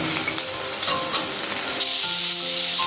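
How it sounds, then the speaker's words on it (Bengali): Loud, close sizzling of potatoes frying in oil until reddened, a dense crackling hiss with the scrape and clatter of stirring throughout. "আলুগুলো লাল করে ভেজে তুলে রাখছি।"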